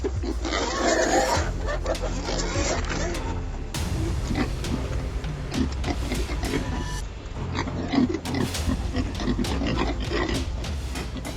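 Wild boars grunt and squeal together while gathered at a feeding spot, a dense, continuous chorus of low grunts with occasional sharper calls, fairly close and steady throughout.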